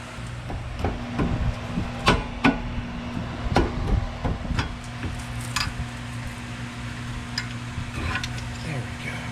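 Hammer strikes on front brake parts of a 2005 Volvo S80 during a brake job, a series of sharp metallic knocks in an irregular rhythm over a steady low hum, fading to lighter taps.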